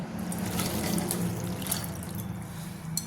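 Water is poured into a pressure cooker holding toor dal and peanuts, a close, continuous splashing trickle heard alone with no talking.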